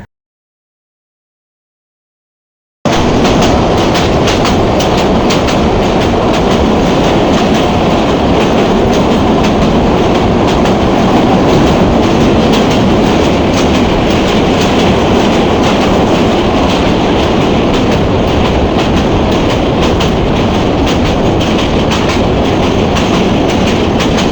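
A passenger train from Dhaka to Cox's Bazar runs on the rails, heard from inside the coach as a loud, continuous rumble with rhythmic wheel clatter, after a few seconds of silence at the start.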